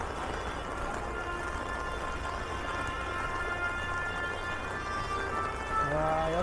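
Steady rain patters continuously at an outdoor traditional market fair in Sokcho, with a hint of melody from a faint voice or instrument near the end.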